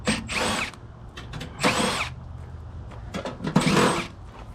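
Power drill driving screws out of an outdoor AC unit's panel in a messy yard, three separate whirring bursts of roughly a second each with short pauses between them, close and fairly loud, with no talking.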